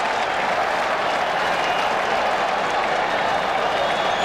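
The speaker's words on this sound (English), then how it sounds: "Crowd coming alive." Crowd at a baseball stadium during Game 3 of the 1986 World Series, Mets at Red Sox, a dense continuous roar of applause and cheering that holds steady and loud throughout.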